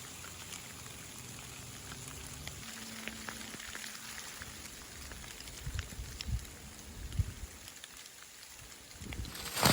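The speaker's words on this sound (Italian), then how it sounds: "Piove" Steady rain patters and hisses on a surface on a snowy mountain road on Mount Pasubio, Italy, a soft continuous wash with scattered drips and a few louder taps near the end.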